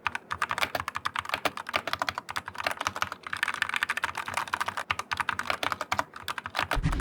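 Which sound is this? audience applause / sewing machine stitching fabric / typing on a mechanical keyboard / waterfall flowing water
typing on a mechanical keyboard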